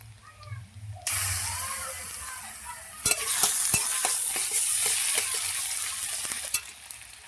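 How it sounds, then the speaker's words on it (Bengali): Onions with ginger-garlic paste frying in a pan: a quiet start, then a sudden jump into loud, steady sizzling, followed by a burst of louder hissing and repeated scraping and tapping of a spatula, close up. "পেঁয়াজটাকে লাল লাল করে ভেজে নেব।"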